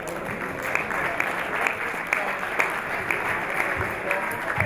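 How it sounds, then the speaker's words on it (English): Audience applause at a gala dinner and award ceremony in Dubai, greeting a community service award presenter: steady, dense clapping from a large room that keeps going without a break, with a few sharper claps standing out. "Valerie Camiso, let's give her a round of applause."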